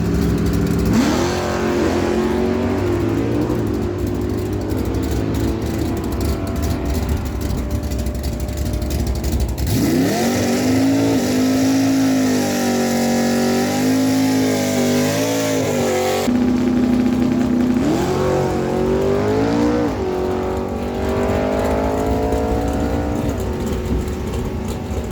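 Drag racing at Miramichi Dragway, a 214 Chevy Camaro and a 1968 Chevelle launching down the strip: loud sustained engine roar with repeated rising revving sweeps as the cars accelerate, continuous throughout.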